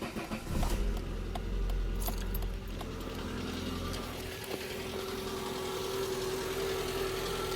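A car engine turns over and settles into a steady low idle after a brief rattle of keys in the ignition, the hum constant and fairly quiet from inside the vehicle.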